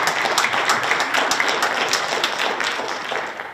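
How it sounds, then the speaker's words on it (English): Audience at a school board candidates' forum applauds the moderator, a steady wash of many hands clapping at moderate loudness throughout, with no talk over it. "a round of applause for our moderator"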